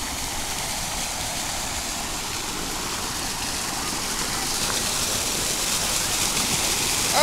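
Water from a waterfall flows in a steady, hissing rush, fairly even and moderately loud, swelling slightly toward the end.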